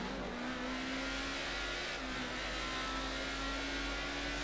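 A car engine revs continuously in the video game GTA V during a race, a loud, sustained drone with steady pitch and faint tire noise, no talk.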